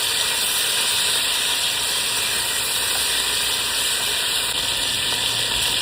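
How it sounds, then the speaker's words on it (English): Short ribs searing in hot oil give off a steady, loud, unbroken hiss with no voices over it. "looks like our oil is nice and hot. We're just gonna start putting our ribs in."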